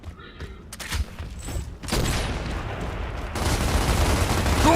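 Rapid gunfire from a Gears of War Remastered multiplayer match on the Canals map, with bursts of shots and heavy impacts building into a loud, continuous barrage toward the end.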